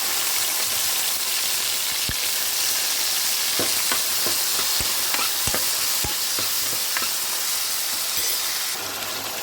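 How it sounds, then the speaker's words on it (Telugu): Raw banana pieces fry in a pan of hot oil, giving a steady dense sizzle throughout with scattered sharp pops and crackles; no one speaks. "వేయించుకున్న తర్వాత అరటికాయ ముక్కలు వేసుకున్నాం. దోరగా వచ్చేటట్టు వేగనండి."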